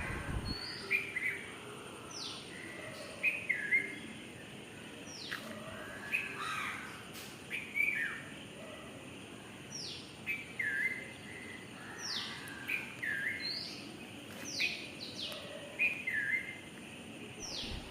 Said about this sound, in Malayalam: രാവിലെ ഉള്ള ഈ കിളിയുടെ കരച്ചിലും കാക്കയുടെ കരച്ചിലൊക്കെ എനിക്ക് ഭയങ്കര ഇഷ്ടമാണ്.